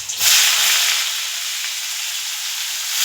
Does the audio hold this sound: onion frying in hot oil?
yes